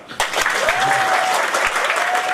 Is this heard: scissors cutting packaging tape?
no